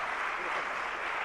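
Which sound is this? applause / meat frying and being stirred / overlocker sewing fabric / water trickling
applause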